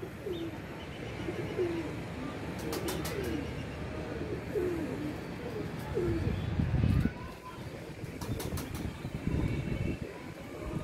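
A pigeon coos in a steady repeating rhythm, soft and near, over constant outdoor noise with a few faint chirps and a low rumble.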